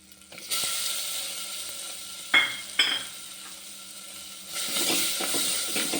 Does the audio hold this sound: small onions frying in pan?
yes